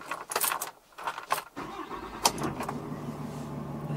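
Keys jingle and a Ram 3500 truck's Cummins diesel cranks briefly, then catches and settles into a low, steady idle, heard close up from inside the cab.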